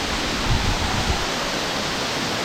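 Boddugudem waterfall in forest near Bhadrachalam, a steady, dense rush of falling water that fills the whole clip at an even level, with no voices over it.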